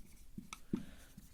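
A few brief scratchy strokes of writing on paper or a board during a trigonometry lesson, quiet and close, with short gaps between the marks.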